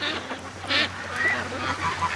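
Ducks, including Muscovies, quacking on a farm, a scattered run of short calls at moderate distance over steady low background noise, with no one talking.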